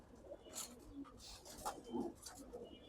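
Pigeons cooing softly in a home loft, a few low rolling coos with faint chirps, fairly quiet and close.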